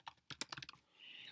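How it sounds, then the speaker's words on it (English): Rapid keystrokes clack on a computer keyboard, a quick run of about a dozen close, crisp taps before fading into quiet room noise. "If I type in some information"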